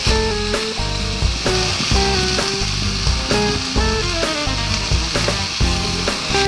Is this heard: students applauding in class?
no